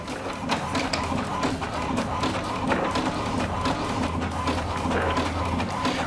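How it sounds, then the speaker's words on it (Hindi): Scanner-printer running a colour scan and print of banknotes, a steady close mechanical hum and whir with faint ticking of moving parts throughout, no clear speech over it. "मैंने दबाया बटन और ये स्कैनर चालू होगा"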